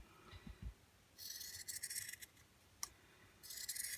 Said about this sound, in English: now I'm going to cut off the extra material there